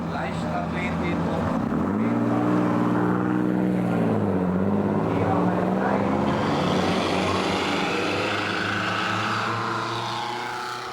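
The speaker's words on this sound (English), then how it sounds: "She is piloting the only Georges Ira, a unique 3-litre six-cylinder dating back to 1928." A 1928 Georges Irat 3-litre six-cylinder car starting up and pulling away, its engine note swelling loud and rising in pitch before easing off, with a voice speaking over it.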